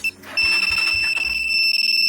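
A two-way alarm system on a Rusi Macho 150 motorcycle sounds a loud, continuous high-pitched electronic siren tone, beginning abruptly after a brief lull and sustaining steadily throughout, alone with faint low thumps beneath.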